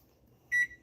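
A cooker timer gives one short, quiet electronic beep as it is being set, alone over faint background hum.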